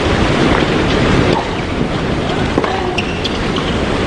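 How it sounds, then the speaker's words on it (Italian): Strong wind gusts across an outdoor professional women's tennis match in Pattaya, a loud, steady roar of buffeting against the microphone that drowns out any other sound. "Tira tantissimo vento, si vede."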